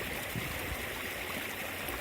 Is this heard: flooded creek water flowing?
yes